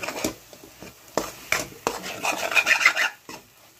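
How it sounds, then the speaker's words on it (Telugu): Aloo methi being stirred in a pan, with irregular scraping and clinking strokes of a utensil against metal. "ఈ టైంలో కొంచెం ఇలా బాగా కలిపేయాలి."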